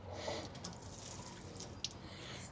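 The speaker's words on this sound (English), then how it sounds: "the coolant coming out of this thing" Coolant drips from a leaking water pump on a second-generation Ram truck, with a soft trickle under faint background noise and one distinct sharp drip near the end.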